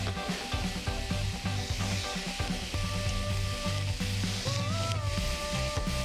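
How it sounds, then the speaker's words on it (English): Long-sliced onions frying in a pan for a vegan lentil rice dish, a soft continuous sizzle running beneath steady background music throughout. "We chop the onions like this, long type, and I'm gonna add it to our pan"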